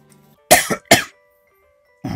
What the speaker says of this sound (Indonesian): Agak batuk nih